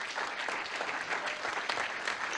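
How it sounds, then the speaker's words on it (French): A French political audience applauds François Fillon, a dense, steady round of clapping filling the short stretch without pause. "On peut applaudir François Fillon."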